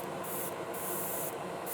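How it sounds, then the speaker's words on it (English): A shellac mist coat is sprayed onto wood in a spray booth, giving steady close hissing bursts with brief pauses between passes. "spray a little shellac on it."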